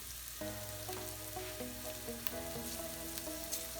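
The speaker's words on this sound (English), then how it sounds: "next I'm gonna add my spices" Spices go into a sizzling pan for tofu tikka masala, making a soft, continuous frying hiss under tonal background music, with no clear burst at the moment they are added.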